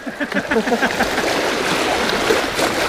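Waves on the Gulf of Gdańsk on a foggy day while out fishing for asp, a loud, close, continuous wash of choppy water with irregular splashes and no speech.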